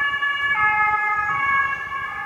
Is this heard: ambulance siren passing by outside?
yes